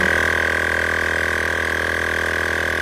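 An electric tire inflator pump runs while inflating a car tire toward 2.2 bar, giving a steady, close mechanical hum with a buzzing motor tone that holds evenly throughout.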